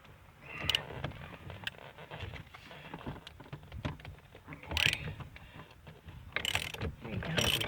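A steering wheel puller is worked on an Oldsmobile Ninety-Eight with repeated ratcheting clicks, creaks and metallic ticks, plus a few sharper bursts, all close and moderately quiet.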